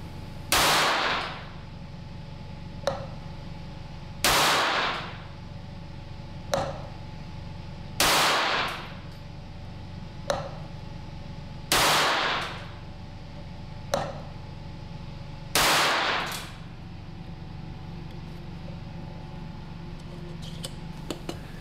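Eley Standard budget ammunition fired in a 5-shot group: five loud, sharp reports spaced a few seconds apart, each with a short decay, with faint clicks of the action between shots.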